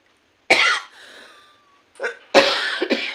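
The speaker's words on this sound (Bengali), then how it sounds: "এই কাশিতে জ্বালাই প্রচণ্ড বেশি" A person coughs several times, a sharp cough, a pause, then a cluster of harsh coughs close to the microphone.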